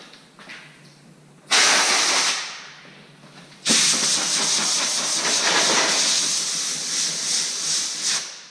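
Compressed air blasts from a nozzle held close to a sanded, puttied car panel on a mini truck, two loud hissing bursts, a short one fading off, then a longer sustained rush, with no voices.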